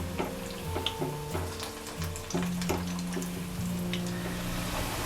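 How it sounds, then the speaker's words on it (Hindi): Spinach and potato cutlets frying in hot oil over a medium flame give a steady, close sizzle and bubbling, with a low humming tone running underneath. "कटलेट को हम अच्छा क्रिस्पी होने तक फ्राई करेंगे।"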